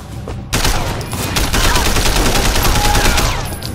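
Loud, dense bursts of rapid video game gunfire in Sleeping Dogs erupt after a brief quieter opening and continue in heavy volleys to the end.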